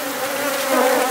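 Honey bees being returned to their hive, a dense close buzzing swarm hum, steady and continuous with no voices.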